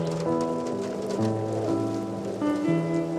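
Rain patters softly and steadily under a gentle melody of sustained tones in a French TV advertisement, the drizzle a constant background hiss.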